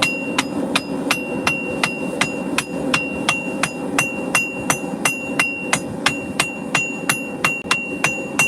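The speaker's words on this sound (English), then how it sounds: "I'm going to use the big hammer to get it nice and flat." A big hammer strikes a forged meat cleaver in a steady, evenly spaced rhythm, each blow a sharp ringing metallic clang, loud and close, about three hits per second with no talking.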